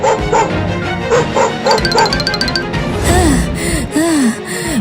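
A cartoon dog barks and yips in quick bursts, with whimpers and gasping sounds between them. It is loud and close, with bright, exaggerated animated effects and music, and no one speaks.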